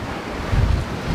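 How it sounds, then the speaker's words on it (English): Strong 27 to 28 knot wind and big waves at sea around a sailboat, a brief burst of buffeting wind and rushing water with low, swelling gusts. "the wind is blowing like crazy, up to 27, 28 knots, big waves"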